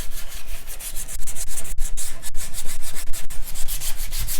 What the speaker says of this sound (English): if you're sanding and you feel like your sandpaper really starts to pull